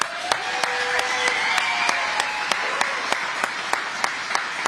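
Applause from racing fans at a Kaulig Racing NASCAR event, greeting news of AJ Allmendinger driving full-time in the Cup Series: a steady, mid-distance wash of clapping with sharp periodic claps standing out, lasting several seconds.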